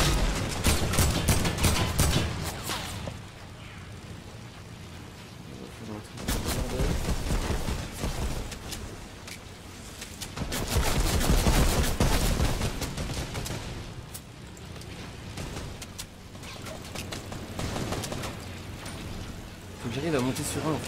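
Gunfire spraying in Fortnite Battle Royale, dense rapid bursts of shots in several loud waves with quieter pauses between, while a player talks over the action.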